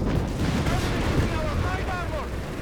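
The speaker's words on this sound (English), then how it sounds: "And the crew just vanishes beneath a cascade of artillery shells." Artillery shells explode in the video game Company of Heroes 3, a dense, continuous barrage of booming, rumbling blasts with crackling debris. Faint shouting voices sound beneath the explosions.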